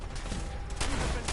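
Gunfire rattles through a firefight in Fallout 4, a dense spread of bursts with a louder volley near the end, loud and close throughout.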